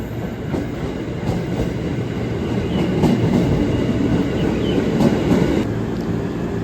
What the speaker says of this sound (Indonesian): Kereta ini tujuannya ke Bekasi ya teman-teman, jangan sampai salah nanti naiknya.